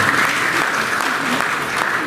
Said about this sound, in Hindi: उनका भी जोरदार तालियां बजाकर स्वागत